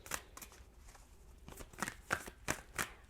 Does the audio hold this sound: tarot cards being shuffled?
yes